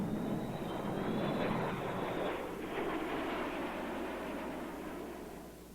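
A B-52 intercontinental bomber passing with a steady, loud, broad engine roar and a faint high whine, easing slightly toward the end, with no voices.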